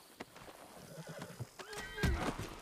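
A horse in a video game neighs in a rising, wavering whinny, preceded by a few clip-clop hoof thuds and soft knocks, fairly quiet and with no talking.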